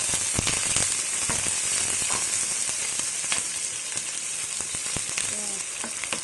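Garlic sizzles steadily in a hot pan for beef caldereta, a close, continuous frying hiss broken by occasional scraping stirs and pops.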